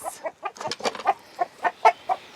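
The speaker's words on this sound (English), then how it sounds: "I'm gonna let out these chickens and then quickly let out the ducks." Homestead chickens clucking in quick, uneven bursts of about a dozen calls, close and fairly loud, with several birds overlapping and no talking.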